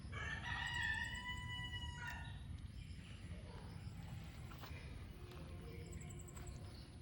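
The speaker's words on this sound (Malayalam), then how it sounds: "ഈ നാട്ടിൽ വേറെയും കോഴിയുണ്ട്." A rooster crows in a rural village, a clear cock-a-doodle-doo near the start, fairly close, over a low steady background hum and faint insect-like ticking.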